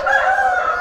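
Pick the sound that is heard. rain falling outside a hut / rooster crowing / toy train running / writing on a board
rooster crowing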